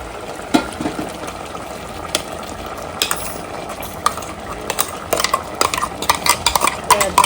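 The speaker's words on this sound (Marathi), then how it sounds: "तर आता आपण यामध्ये कांदा खोबऱ्याचं वाटण घालतोय" Onion-coconut paste being stirred into mutton curry cooking in a pot, heard as loud, close scraping and clinking of a spoon against metal over a steady sizzle, with no talk.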